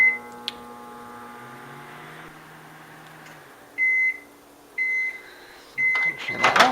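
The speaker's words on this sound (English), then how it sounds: "normally it's just in the microwave for a good 3 minutes" A microwave oven hums steadily, then gives three separate electronic beeps, followed by a clatter as the door is opened and something is handled.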